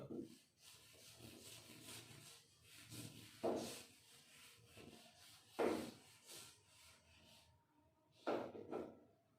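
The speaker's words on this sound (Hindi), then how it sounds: "मैं एंट्रीज रब करता हूं" An eraser rubs accounting entries off a classroom board in several separate scrubbing strokes, fairly close, with quiet room noise in between.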